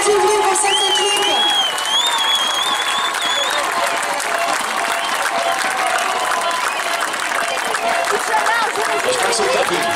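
A crowd at a women's horseball cup final in France applauds and cheers for a team, dense continuous clapping with whistles and shouts throughout.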